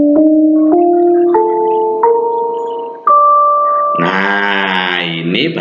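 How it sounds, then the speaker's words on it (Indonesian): A series of struck metal bar tones, like those of a saron, the Indonesian metal percussion instrument, each note clear and ringing and stepping upward in pitch, followed by a denser, brighter cluster of ringing tones, close and loud with no talking. "Nah, ini baru bunyi saron."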